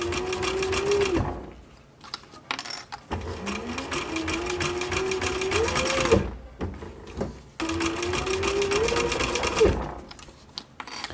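A sewing machine stitches through multiple layers of a military patrol cap in three long whirring runs with brief pauses between, close and loud, its motor pitch rising as it works.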